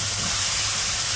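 Spice paste being stir-fried in a pan for a simple village-style Bengali vegetable dish, giving a steady, close hiss and sizzle that runs unbroken through the whole short moment with no talking.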